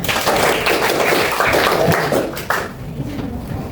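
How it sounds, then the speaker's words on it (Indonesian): Applause from a classroom audience during a teacher's performance-test lesson, a dense wash of clapping that holds steady, then thins and fades toward the end. "Oke, sekali lagi tepuk tangan buat semuanya."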